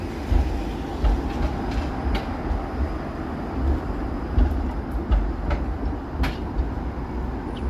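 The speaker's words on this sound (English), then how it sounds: "Streetcars just trundling along at a very slow rate of speed." Toronto streetcars trundle slowly along a city street, a steady low rumble with rhythmic rail clicks and occasional faint squeals, heard alone without voices.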